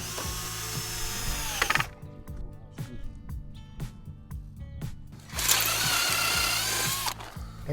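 A power drill drives screws into a bent metal homestead frame in two long loud whirring bursts, separated by a quieter stretch of short clicks and knocks.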